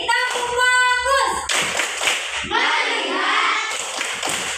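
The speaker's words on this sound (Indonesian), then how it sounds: "Ulang satu kali lagi. Tepuk fokus." A class of fourth-grade children in an Indonesian classroom doing the tepuk fokus clapping routine, with a run of loud, close group claps and chanting voices, and a teacher's voice among them.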